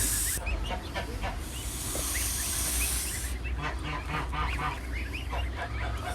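Continuous loud honking and hissing from geese close by, overlapping calls over a busy, noisy background, during the first outing of the year for geese and goslings.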